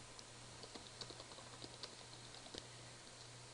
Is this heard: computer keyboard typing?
yes